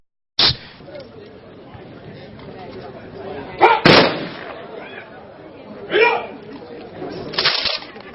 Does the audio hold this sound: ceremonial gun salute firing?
yes